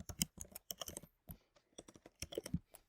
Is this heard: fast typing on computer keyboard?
yes